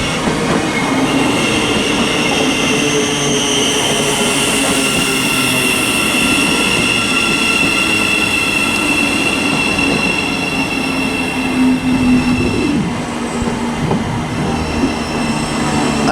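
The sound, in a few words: Thameslink Class 700 train arriving at Luton Airport Parkway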